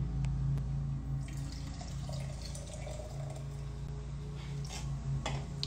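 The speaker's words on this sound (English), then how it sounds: "And we're gonna do about 4 ounces of ginger beer." Ginger beer poured over ice for a Moscow Mule, a soft steady trickle with faint fizzing and light ticks close by, no voices.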